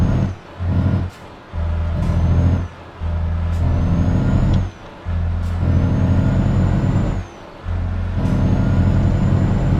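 A heavy truck in Euro Truck Simulator 2 rumbles with a loud, steady engine drone, broken by several sharp bursts of air brake hiss as it pulls away, with no voices.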